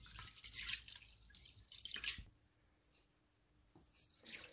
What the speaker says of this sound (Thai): ก่อนอื่นเราก็ต้องล้างข้าวก่อนนะจ๊ะล้างข้าวประมาณอุ้ยหลายน้ำด้วยจ้ะ